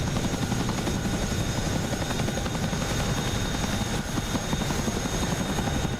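A helicopter in the DCS flight simulator flies sideways to the left, its rotor thumping steadily over a loud, continuous turbine whine that holds at an even level throughout, with no talking.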